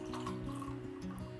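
A thick sabja (basil seed) summer sherbet is poured into a glass, giving a short, close liquid trickle with soft drips and faint ticking, heard alone without speech.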